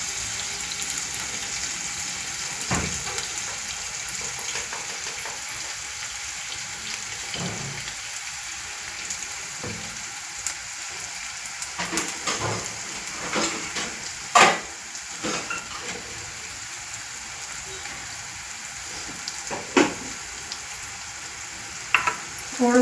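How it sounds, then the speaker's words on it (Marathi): Onions frying in a pan for Maharashtrian kande pohe, a soft continuous sizzle with scattered spoon scrapes and clinks, louder stirring knocks later on, and no voices. "आता कांदा आपण चांगला भाजून घेऊया।"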